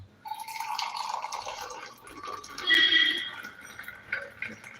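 Homemade tea is poured into a pot of chickpea payasam in a home kitchen, giving soft liquid trickles and light drips that come and go, fairly quiet and close.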